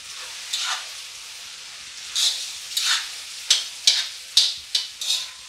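Macaroni with stewed Belarusian canned meat is stirred in a kazan, giving a series of close, crisp scraping strokes that grow more frequent and rhythmic over a faint sizzle, with no talking.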